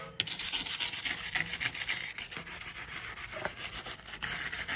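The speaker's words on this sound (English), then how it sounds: "just use wire brush, go around all of this, okay, give it a good scrub down like this" A wire brush scrubs around a Mercedes X166 rear wheel hub with the wheel removed, giving close, quiet, rapid rasping strokes in an uneven rhythm.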